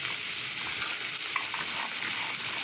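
Green beans drop into a hot pan of vegetable masala and are stirred, giving a steady close sizzle with soft scraping throughout, no talking.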